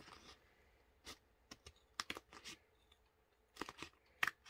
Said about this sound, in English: I'm going to trim this up real quick